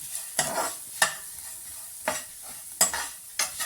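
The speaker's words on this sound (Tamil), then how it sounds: "இதே நெய்யில் நம்ம என்ன பண்ணிக்கலாம்னா இந்த அவளை போட்டு வறுத்தெடுத்துக்கலாம்" Flattened rice (aval) roasting in ghee for payasam, heard as a soft steady sizzle with several sharp scraping stirs at irregular intervals, close and alone without voices.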